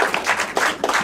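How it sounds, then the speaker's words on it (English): A debate audience claps briefly, a short burst of applause from many hands in a hall. "a round of applause for debaters"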